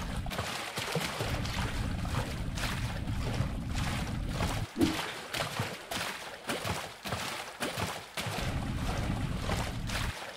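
A character swims through open water in the Unturned video game, heard as rhythmic, fairly close splashing strokes over a steady wash of water and wind-like noise, with no talking.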